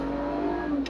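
A 2004 BMW 325i's inline-six engine hums steadily with a rising, revving tone, close and continuous, with no voices.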